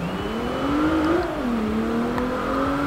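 Lexus LFA engine in the racing game Forza Horizon 4, a loud, steady high-pitched rev that dips and climbs again, heard up close with no talking.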